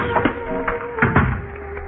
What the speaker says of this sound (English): And I locked the door behind me.